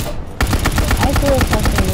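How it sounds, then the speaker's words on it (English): Rapid bursts of gunfire from a video game shooter, aimed at a building, start abruptly after a brief quiet moment and continue as a dense, loud fusillade of repeated shots to the end. "I'm shooting at it."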